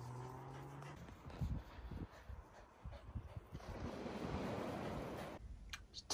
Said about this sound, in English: Beautiful beach.